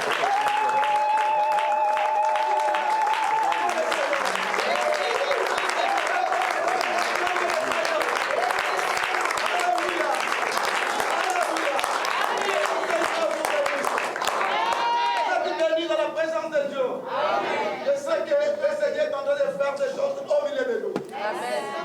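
A church congregation at a Sunday service applauds in steady, sustained clapping, while loud voices cheer and call out over it throughout.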